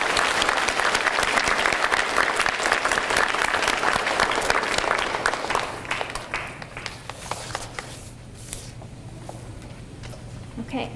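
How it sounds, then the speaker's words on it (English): A school crowd at a DARE event at Don Callejon applauds essay winners: dense, loud clapping for several seconds that thins out and fades to scattered claps, with room noise and faint voices afterward. "So can we also give them another round of applause,"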